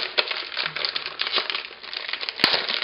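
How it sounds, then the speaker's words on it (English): Close, crisp crinkling of thin plastic wrap being peeled off an iPad 2 keyboard dock, with irregular rustles and one sharper snap near the end. "let me just go ahead and remove the plastic off the keyboard"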